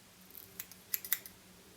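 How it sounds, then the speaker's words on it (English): Serrated scissors snipping deer hair for fly tying, a few quick, crisp close cuts with soft rustles between them in a quiet room. "Okay, back to the serrated scissors. Now the first cut is directly underneath, flat, like so."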